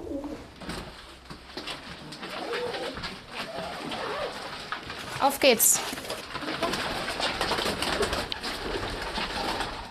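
Many pigeons coo in a dense, continuous chorus inside a pigeon loft, close by and busy, while a person speaks briefly and wings flutter once.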